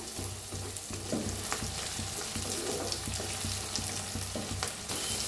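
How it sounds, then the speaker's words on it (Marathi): Onion and tomato roast in a pan for a brinjal dish, a dense close sizzle with recurring scrapes and knocks from stirring running under a low background hum, no talking. "असा कांदा तंबाटू चांगलं भाजून घेऊया आता"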